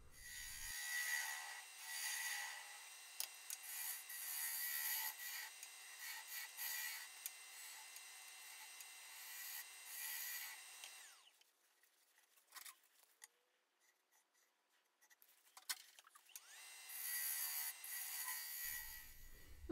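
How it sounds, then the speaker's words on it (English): A negative rake scraper working the inside of a cherry burl bowl spun on a wood lathe, giving a steady high scraping hiss with short pauses and a quieter gap before the cut resumes. "I take a negative rake scraper and go in and blend in the transitions."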